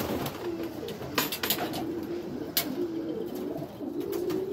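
Racing pigeons coo repeatedly in a loft in Oklahoma, low soft calls layered over steady ambient noise with a few brief sharp sounds, no talking.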